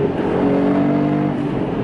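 A Mercedes-Benz GLE 63 SUV engine and exhaust roar under hard acceleration, a loud, steady, close rumble with a rising engine note that holds for the whole stretch with no talking.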